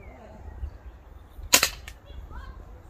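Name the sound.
2x4 slingshot rifle being fired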